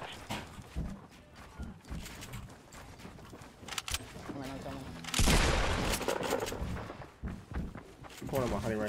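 Hunting rifle shots in the survival shooter Gunners Alive: a few isolated loud cracks, one especially heavy blast midway, mixed with game noise and players chatting over it.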